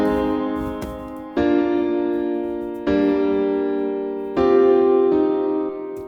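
Sustained synth or keyboard chords move through a sus4 progression with an epic feel, four rich held chords changing about every one and a half seconds, loud and without any voices.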